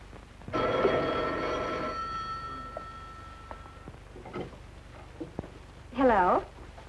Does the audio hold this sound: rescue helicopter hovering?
no